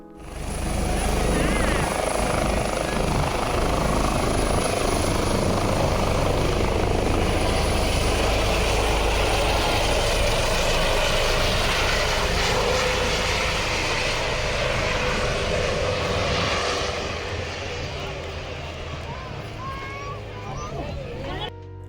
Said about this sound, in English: An air ambulance arrived to pick up a victim or casualty.